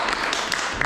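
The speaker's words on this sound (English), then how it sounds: "Give yourselves a round of applause." Applause from the audience at a kirtan and Bhagavad Gita class at ISKCON London, heard as a dense, steady wash of many hands clapping close and loud through the whole short burst.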